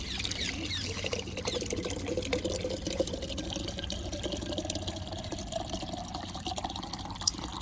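Water splashes and trickles steadily as it is poured out for birds outdoors, a continuous liquid patter against a busy background.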